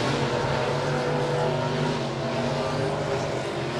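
Midwest Modified race cars roaring around Monett Motor Speedway during a heat race, a dense, steady wall of engine noise from several cars at once, loud and continuous with no pause.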